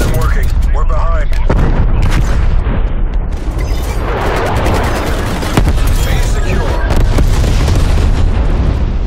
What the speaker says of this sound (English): Artillery targeting detected. Net call. Incoming artillery.